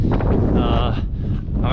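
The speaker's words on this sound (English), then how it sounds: "the wind is going up and down all the time" Strong wind buffets the microphone on a volcanic mountain trail of sand and stones on the Tongariro Alpine Crossing, a loud rumbling gust that rises and falls while a person talks over it.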